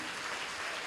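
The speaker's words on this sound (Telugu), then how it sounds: "గట్టిగా చప్పట్లు కొట్టి" Dense, loud clapping from a congregation at a Christian prayer and anointing worship service in Tadepalligudem, a steady wash of many hands with no talk over it.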